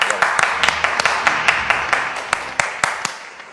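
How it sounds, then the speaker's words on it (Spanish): Applause from a small studio audience on a university TV talk show, a series of crisp, fairly loud claps at an irregular but steady pace that thins and stops near the end. "Un fuerte aplauso, por favor"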